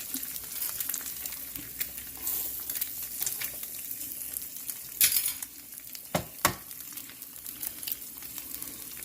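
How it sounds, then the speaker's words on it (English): An egg fries in a pat of melted butter in a pan, a soft, steady close-up sizzle with a few crackles and brief clinks of a utensil. "you're going to cook the egg on top of the pat of melted butter"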